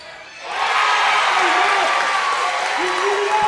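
A basketball crowd at a Frankston vs Geelong NBL1 men's game erupts into loud, sustained cheering and applause after a three-pointer, with a commentator talking over the roar.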